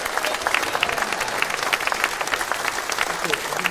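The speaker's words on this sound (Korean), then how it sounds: "네, 박수 한 번, 예" An audience at a Korean presidential campaign event gives a short burst of even, dense clapping after a bouquet is handed over, with a voice faintly underneath.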